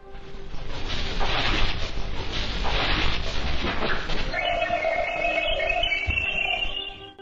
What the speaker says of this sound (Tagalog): Nagtagumpay ang mga zondang mag-record ng tinig ng magnetosphere ng buwan.